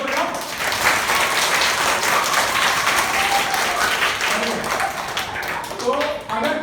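Fourth-grade children clap together in a classroom, a sustained, fairly loud burst of applause with lively voices underneath that briefly dips and swells near the end.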